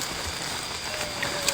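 Steady rain falls outdoors, a dense, even hiss of drops with a few sharper patters standing out, continuous throughout with no voices.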